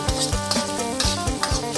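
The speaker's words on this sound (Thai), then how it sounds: "ตามด้วยหมูสามชั้นครับ ลงไปเลยครับกระทะร้อน" Pork belly sizzles loudly in a hot pan with pounded red chili and garlic while a utensil scrapes and stirs in repeated strokes, a steady crackling frying sound with no talking.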